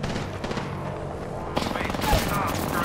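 Gunfire in Apex Legends, with bursts of shots under a steady layer of game noise that grow louder and denser partway through, while players talk over it.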